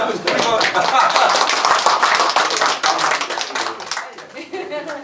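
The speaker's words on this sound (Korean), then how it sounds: "우리 시장 박수 한번 쳐드릴까요?" Clapping hands rise from a small group gathered for the mayor during a village overnight visit in Janggun-myeon, Pyeonggi-ri, a dense burst of claps layered with voices talking over it, tapering off near the end.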